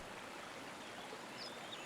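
Creek water flows steadily and laps against its bank, a soft, even wash of moving water with no voices and no breaks.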